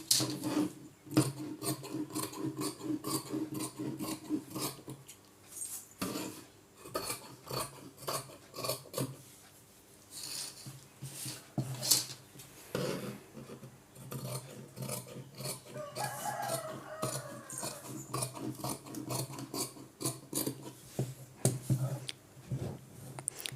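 Scissors cut through blouse fabric in a series of close, crisp snips and rasping slides, uneven in rhythm, with brief pauses between runs of cuts and no talk.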